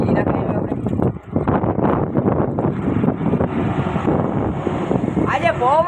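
Strong wind roars steadily across an outdoor microphone, a loud continuous rush with gusty swells, and people talk over it throughout.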